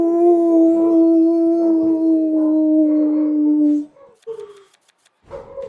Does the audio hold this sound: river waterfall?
no